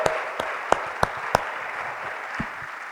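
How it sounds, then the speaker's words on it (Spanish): A church congregation claps for the Lord during a Spanish-language sermon: a handful of sharp, distinct claps stand out near the start over a steady wash of crowd noise, then fade to scattered softer sounds. "démosle fuerte las palmas al bendito Señor"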